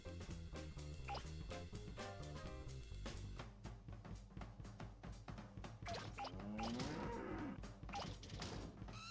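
A cow moos in the Katamari video game, heard a few times over dense, steady game music that fills the whole stretch.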